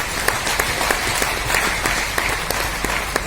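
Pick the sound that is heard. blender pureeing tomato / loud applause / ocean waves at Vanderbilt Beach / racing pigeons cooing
loud applause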